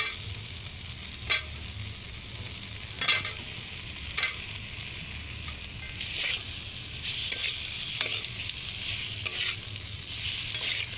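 Boiled potatoes being stirred into fried spice paste in a pan on a rooftop picnic, continuous sizzling broken by several sharp scrapes and knocks of the spoon against the pan.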